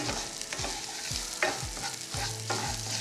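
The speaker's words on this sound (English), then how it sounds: "So what I'm doing here is just sauteing." Rice sautéing with garlic in a pan, a constant sizzle with a spoon scraping and stirring every half second or so, close and moderately loud.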